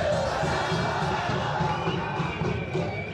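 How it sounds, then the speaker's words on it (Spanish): Spectators at a Torneo Federal A football match between El Linqueño and Sportivo Belgrano San Francisco produce a continuous roar of applause and cheering from the stands, filling the whole moment at steady volume. "Los primeros aplausos"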